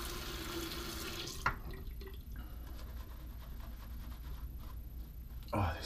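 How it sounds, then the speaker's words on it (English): Water runs from a tap into a sink for a straight razor shave, a steady trickle with brief splashes and a faint knock near the end. "I'm just gonna add a touch more water."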